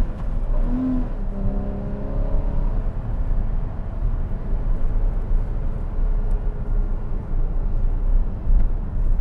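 A 2014 Porsche Cayman engine hums steadily from inside the cabin as the car takes turns through the gears, a continuous loud drone with road rumble and a rising tone early on.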